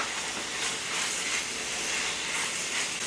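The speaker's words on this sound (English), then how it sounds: "Add those tomatoes on in." Tomatoes added to a hot pan for old-school Southern spaghetti, giving a soft, steady hiss of sizzling and steam, fairly quiet and continuous, no talk.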